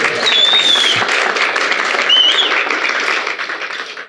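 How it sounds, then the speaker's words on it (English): Warm, sustained audience applause filling a large hall at a live awards event, a dense wash of clapping with faint whistles that holds steady, then thins slightly at the end. "Go ahead, applause is a good thing."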